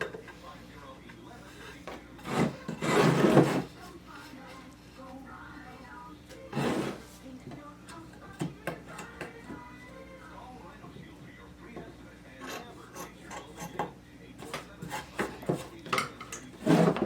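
Blade trimming excess material while building fume boards, a few short scraping and rasping cuts in separate bursts, close by, with quieter handling noises between.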